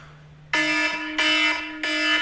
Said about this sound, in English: Got my alarm set because I got to get going in a little bit.